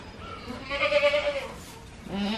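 Alpine dairy goat bleating once in a drawn-out, wavering call close by during a first morning milking, followed by the start of a second bleat.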